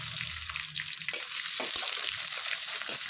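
Garlic, slit green chillies and peanuts fry in about two teaspoons of oil, making a close, continuous bright sizzle with a few soft stirring scrapes and no voices.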